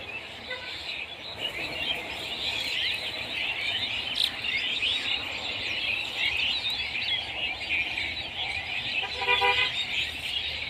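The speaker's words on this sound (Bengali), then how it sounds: "রাস্তা দিয়ে গাড়ি যাচ্ছে শহরের ভিতরে কোথাও" Cars pass on a road somewhere inside a city, a steady traffic hum with a horn toot, while small birds chirp close by over the noise.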